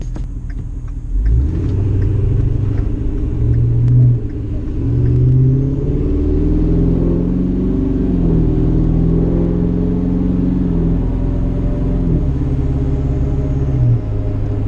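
A truck on Mud Grappler off-road tires rolls along loud and close, with a deep droning tire roar and engine rumble that rises and shifts steadily, and no talk.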